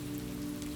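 Gentle rain falls steadily on a surface as a soft, even, continuous patter, quiet and close, with no voices.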